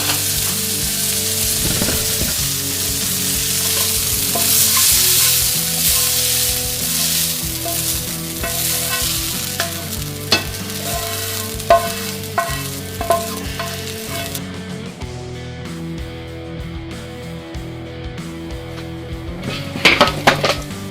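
Chicken breasts frying in a pan with soy sauce and a mushroom and green onion sauce, a loud steady sizzle with utensils clinking and scraping against the pan, thinning out toward the end; no voices.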